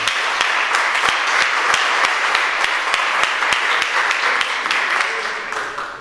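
A church congregation claps together, dozens of sharp hand claps falling in a steady, roughly even rhythm that fades slightly toward the end, with faint voices underneath.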